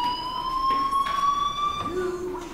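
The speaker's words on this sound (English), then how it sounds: "do you hear that fire alarm?" A fire alarm sounds in the video game Life Is Strange: a steady, loud electronic tone holding one pitch with bright overtones, shifting slightly partway through, with faint background noise and no talk.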